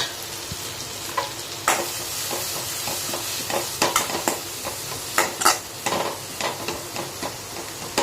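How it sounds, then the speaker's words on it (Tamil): Onions and curry leaves sautéing in a hot pan for a paneer gravy, a steady close sizzle punctuated by the scrape and clink of a spoon stirring, with no talking. "நல்லா வதக்கி விடுங்க."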